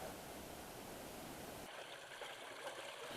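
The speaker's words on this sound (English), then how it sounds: "This fall forms a small cascade and is located in the rainforest area." A small cascade waterfall in a Blue Mountains rainforest gives off a soft, continuous rushing hiss of falling water. It stays faint and even throughout, with its tone shifting slightly partway through and no one speaking.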